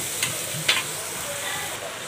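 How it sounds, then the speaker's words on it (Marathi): Masala sautéing in hot oil in a pan: a steady, soft sizzle runs throughout, with two brief louder clinks or scrapes near the start. "त्याला थोडंसं आपण 1 मिनिट छान इथं परतून घेऊया।"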